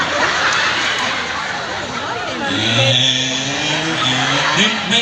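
A motorcycle ridden over road humps, its engine note steady then rising and falling in pitch as it climbs through gears, loud and close with constant road and wind noise.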